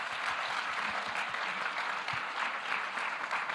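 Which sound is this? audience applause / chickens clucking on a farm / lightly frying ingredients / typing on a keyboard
audience applause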